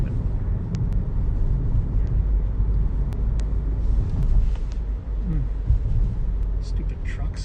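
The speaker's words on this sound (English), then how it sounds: "Stupid trucks." Heavy trucks roll past on a busy street near the Washington Monument in Washington, D.C., a steady low rumble of traffic close by, swelling as vehicles pass, with a person's voice over it.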